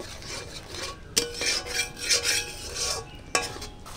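Spice masala for potato biryani being stirred in a pan, heard as close scraping and rubbing strokes with soft sizzling and a couple of sharp utensil knocks.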